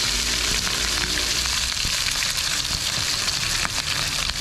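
Tilapia frying in hot, smoking cooking oil, a steady loud sizzle and crackle with occasional sharper pops.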